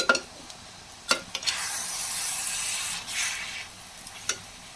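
Soya green beans masala being stirred in a hot pan, with scraping spoon strokes over a steady sizzle, several distinct scrapes spread across the stretch, close and fairly loud, no voices.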